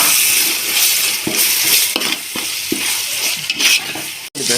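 Ginger garlic paste frying with prawns for prawn dum biryani, a short burst of close, bright sizzling with stirring sweeps through the pan.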